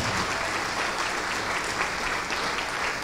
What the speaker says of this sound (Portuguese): vamos aplaudir ao Senhor Jesus por cada vida que está chegando. Vamos aplaudir mais